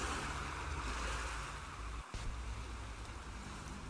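Sea waves wash in on a bright sunny day by the sea, a loud continuous surf roar with wind rumble at the microphone and a brief dip partway through.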